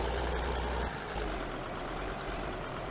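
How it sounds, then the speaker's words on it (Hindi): A tractor engine in the Farming Simulator video game runs with a steady low idling rumble, constant and close with no voices. "तो दोस्तों, हम शुरू करते हैं अपना ये ट्रैक्टर,"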